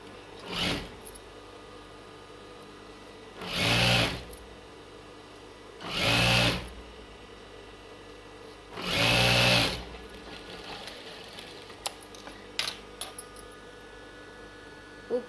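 A sewing machine stitches a folded button strip on a child's silk pattu pavadai blouse in four short whirring runs separated by pauses, followed by faint clicks and handling.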